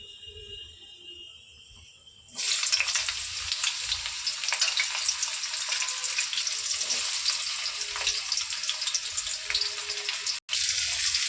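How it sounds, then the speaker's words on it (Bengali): Chopped onion dropped into hot mustard oil seasoned with cumin and bay leaf sets off a sudden loud sizzle after a quieter lead-in, then a steady close crackle with a brief break near the end. "এবার ওই কুচানো পেঁয়াজটা দিয়ে দেবো।"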